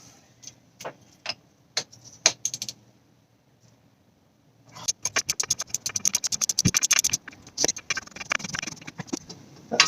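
Ratchet with an extension bar and 27mm socket working a sump plug loose on a Ford 2.0 TDCi diesel, giving sparse clicks at first, a quiet pause, then a fast run of close, sharp ratcheting ticks.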